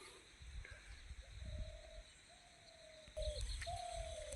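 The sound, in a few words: small birds in trees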